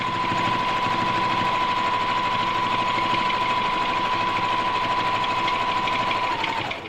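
A sewing machine quilts straight lines across a quilt block, running steadily and loudly without pause for nearly seven seconds, a continuous buzzing hum that cuts off at the end.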